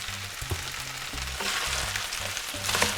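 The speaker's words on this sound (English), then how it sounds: "all we're going to do is stir this up until the rice is completely coated and everything is nice and hot" Chicken fried rice with peas stir-fries in a hot pan, a continuous sizzle broken by regular scraping stirs and tossing of the rice, close and fairly loud with a music bed beneath.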